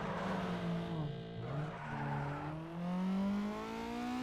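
A car engine in the racing game Need for Speed Underground 2 whines and revs up and down, tires squealing through turns, loud and close without any talking.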